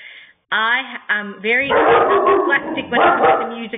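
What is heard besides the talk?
dog barking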